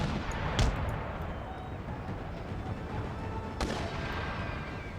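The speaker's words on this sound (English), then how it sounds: "There go the mortars again." Mortar fire on an Empire: Total War battlefield, two sharp distant thumps a few seconds apart over a low, steady rumble of background battle noise.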